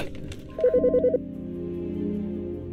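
Phone ringing in the Autopsy Simulator video game: a loud electronic ringtone sounds as a quick burst of five or six pulsing tones, then gives way to a low lingering hum.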